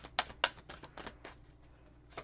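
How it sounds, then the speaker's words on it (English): A deck of cards is shuffled by hand in a tarot-style reading, giving a series of sharp riffling bursts and softer rustles, loud and close, with no talking. "One more shuffle."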